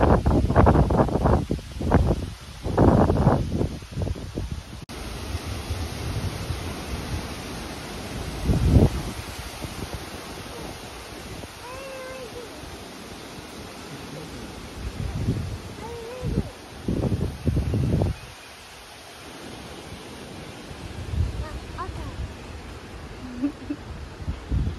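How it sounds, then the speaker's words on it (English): Strong, icy wind buffets a campsite awning in the Misty Mountains at Kunghur, roaring in irregular loud gusts with rustling and quieter lulls, while voices are faintly heard at times. "The wind was icy cold and super strong"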